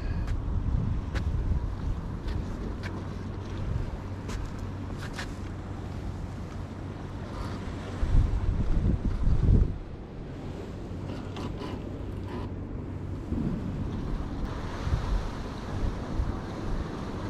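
Strong wind blows over the sea shore at Scarborough North Bay during a dangerous swell, with waves surging and breaking. A continuous roar of wind buffets the microphone, and it swells louder for a moment midway.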